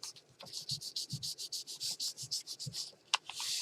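Hands rub firmly over a leaf pressed into paint on a gel printing plate, giving a quick run of soft, close scratchy strokes in a steady rhythm with no talk.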